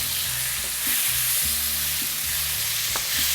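Tomatoes, curry leaf and cilantro are stirred in a sizzling pan for butter chicken, with a soft steady fry hiss and faint utensil scrapes.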